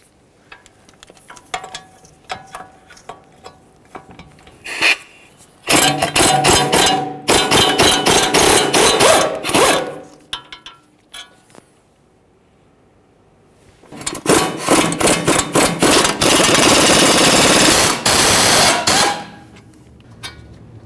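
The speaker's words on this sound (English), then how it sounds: "This can easily be done with a hammer. Give it a couple bonks, downward and upward" A hammer strikes the wheel bearing to knock it loose from the steering knuckle of a 2003-2011 Mercury Grand Marquis, with sharp metallic hits early on and then two long, loud stretches of dense, rapid clanging, with no talking.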